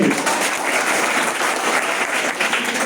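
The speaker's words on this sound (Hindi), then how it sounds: "जोरदार ताली होनी चाहिए" A classroom audience bursts into brisk, steady clapping that stays loud and even for a few seconds, with no talking over it.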